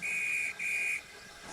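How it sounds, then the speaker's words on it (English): A railway guard sounds a shrill whistle on a goods train platform in two long blasts with a short break between, loud and close, then stops. "The guard blew his whistle"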